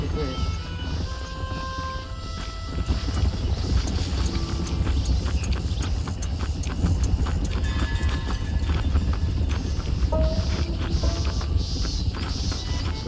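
Hooves clip-clop in a steady rhythm close by in the video game Red Dead Redemption, with occasional snorts, while people talk over the sound.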